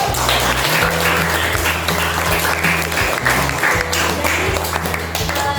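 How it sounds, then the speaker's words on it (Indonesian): Students applaud in a classroom, a dense, steady clapping from a group that stays loud and sustained throughout, with a low hum underneath. "Untuk setiap kelompok yang telah aktif pada pembelajaran hari ini, bisa berikan aplaus dulu."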